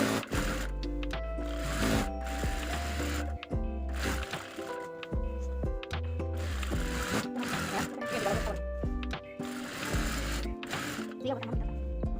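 A sewing machine stitches the side seams of a kameez, its needle mechanism producing a close, rhythmic chattering hum in runs with brief stops between them.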